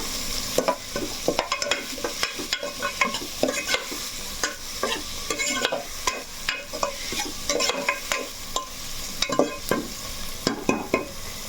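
Onions frying with rock salt in a pan, sizzling steadily while being stirred and scraped repeatedly, loud and close with no talking.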